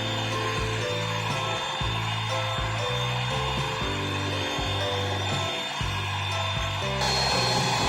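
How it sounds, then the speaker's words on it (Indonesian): An electric mixer whisks cookie batter at medium speed, a steady, continuous motor whir with a faint rhythmic rattle of the beaters running throughout. "Jadi kecepatan sedang, kita kocok sampai dia kaku."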